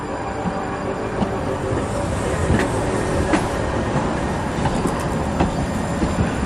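TriMet MAX light rail train at Gateway Transit Center rolls past with a steady rumble, faint rhythmic wheel clicks and occasional high metallic squeals, close and continuous for several seconds.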